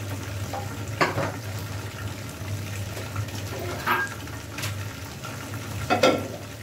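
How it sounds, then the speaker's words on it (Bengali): Fried rice being stir-fried in a pan: a few distinct scraping and stirring strokes with soft sizzling, spaced several seconds apart over a steady low hum. "এখন আমি ফ্রাইড রাইসটা করবো।"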